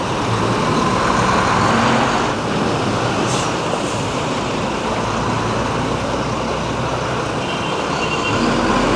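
Trucks rumble steadily through a flooded road in Bocaue, Bulacan, a continuous broad wash of engine drone and churning water close by, with no talk.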